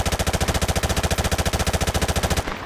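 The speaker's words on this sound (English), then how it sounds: "here are the M4s being fired simultaneously" Two M4 rifles fire together in Modern Warfare Remastered, a loud, continuous rapid burst of evenly spaced shots lasting over two seconds before cutting off abruptly.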